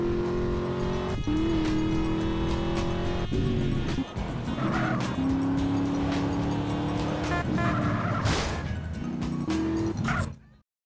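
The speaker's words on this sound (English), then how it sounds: "Now drive faster!" A fast car in GTA San Andreas with its engine revving high and shifting through gears, roaring loudly and close throughout with brief bumps and scrapes, under a steady game soundtrack.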